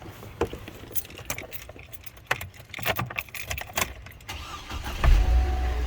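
Keys jingle and rattle in the ignition of a 2007 Hummer H3 before its engine cranks and catches near the end, settling into a low, close rumble.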